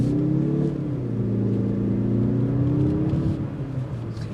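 A 2022 Mazda CX-30 Turbo, a compact crossover with a small turbocharged engine, accelerates hard with a steady rising engine drone and whir, loud and close throughout with no talking.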